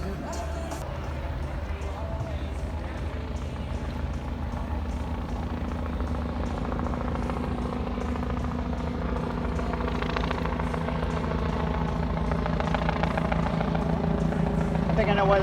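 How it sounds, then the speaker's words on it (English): A helicopter circles overhead, giving a steady low drone that holds through the whole stretch and swells slightly toward the end, with street sounds and occasional voices mixed in. "I think I know why the helicopter's circling."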